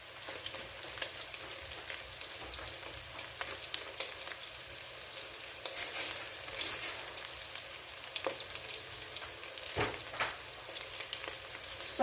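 Broiler chicken pieces for Chinese chilli chicken fry in a pan as sauces are poured in, giving a continuous quiet crackling sizzle with occasional louder spatters and a scrape near the end, with no voices.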